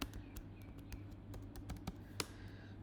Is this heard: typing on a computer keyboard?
yes